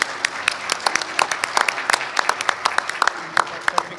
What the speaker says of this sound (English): a round of applause for everybody here